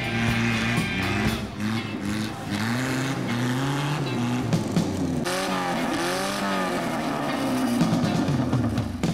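A Niva 4x4 engine labors and revs through an off-road trail obstacle at a jeep club event, with loud fluctuating engine tones and crowd noise around it.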